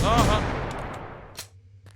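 Gunfire in The Final Station, a loud close shot with a long decaying boom that fades over about a second, followed by a brief sharper crack near the end.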